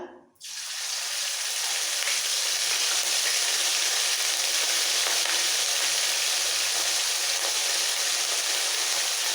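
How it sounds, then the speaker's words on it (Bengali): Spice tempering and a spoonful of ginger paste hit hot oil for a Rohu fish curry, flaring into a loud, dense, continuous sizzle that starts abruptly and holds steady to the end. "ফোড়নটা একটু ভেজে এর মধ্যে একে একে সমস্ত মশলা দিয়ে দেবো খুব সামান্য মশলাই দেবো দিয়ে দিচ্ছি এক চামচ আদা বাটা"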